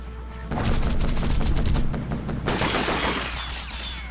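Rapid anti-aircraft gunfire in a war strategy video game: a dense fusillade of loud, crackling bursts that starts abruptly and carries on for several seconds, with no talking over it.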